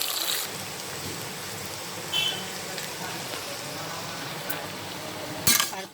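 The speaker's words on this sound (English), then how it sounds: "And we'll fry this a bit so that the rawness of the pointed gourd disappears." Pointed gourd frying in a pan for a masala parwal dish, a steady broadband hiss of frying throughout with a few brief clinks of a utensil against the pan.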